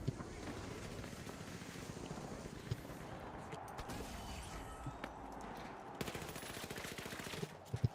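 Rapid gunfire in the shooter The Finals rattles in continuous fast bursts at a fairly low level, with a brief pause and sharper shots near the end.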